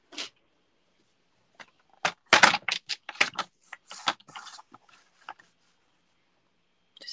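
Paper is cut while Easter cards are made, giving a series of short, crisp snips and rustles in uneven bursts, close and fairly quiet against a silent background.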